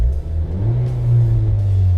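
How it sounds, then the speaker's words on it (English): A Nissan Juke NISMO RS engine revs up, its low rumble rising and holding steady at a higher pitch before easing slightly, close and loud. "I rev it"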